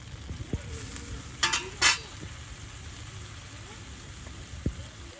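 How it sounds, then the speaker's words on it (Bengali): Small shrimp fry in a pan as water is added, giving a quiet, steady sizzle with a few sharp hissing bursts and light stirring scrapes. "ইচা মাছগুলো ভাজা ভাজা হয়ে আসছে, এখন হচ্ছে যে দিয়ে দিচ্ছি জল।"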